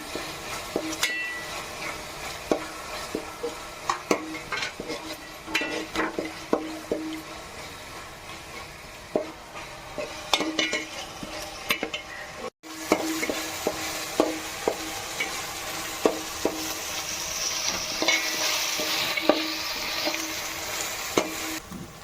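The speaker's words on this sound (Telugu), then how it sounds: "అల్లం వెల్లుల్లిపాయ పేస్ట్ వేసుకుంటున్నాను ఇది కొంచెం మరా కలర్ వచ్చే వరకు వేసుకోవాలి" Ginger garlic paste fries in a pan for prawn malai curry, a steady sizzle with repeated clinks and scrapes of a spoon stirring, growing louder and more hissing toward the end.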